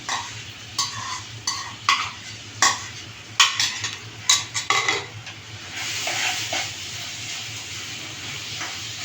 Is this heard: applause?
no